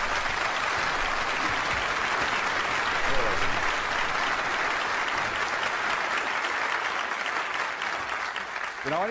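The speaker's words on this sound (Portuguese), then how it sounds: "Então vamos dar a John uma grande salva de palmas," An audience claps steadily to welcome a man named John onto a seminar stage, sustained dense applause lasting throughout with faint voices mixed in.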